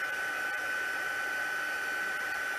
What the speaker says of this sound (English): And with embossing with the heat tool